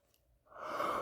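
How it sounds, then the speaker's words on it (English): A person yawns, starting quiet and rising into a long, breathy exhale that swells and holds near the end, heard close and alone. "I'm yawning."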